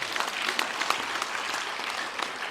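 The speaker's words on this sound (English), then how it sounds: "One more clap for him." Steady clapping from a lecture audience honoring a guest lecturer at an education foundation event, a dense, even round of applause with some sharper individual claps.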